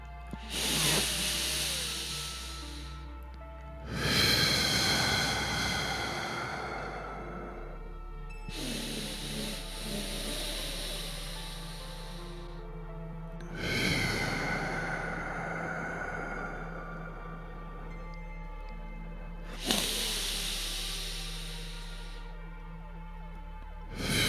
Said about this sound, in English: Now let's take 3 nice deep breaths. In through our nose, exhaling through our mouth.